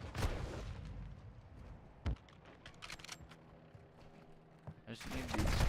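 Modern Warfare 2 video game gunfire: a burst of rapid shots at the start and another at the end, with scattered single cracks between, quiet and mixed with keyboard clicks.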